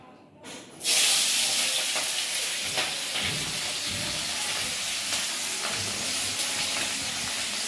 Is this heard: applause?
no